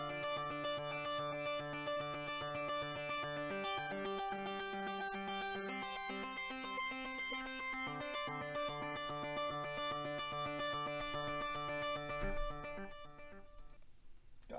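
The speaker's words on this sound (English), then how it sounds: "So here's what it sounds like with effects." A synth arpeggio plays a rapid repeating pattern of bright notes in a witch house style, smeared by delay echoes, a sweeping flanger and a reverb tail, with no voices.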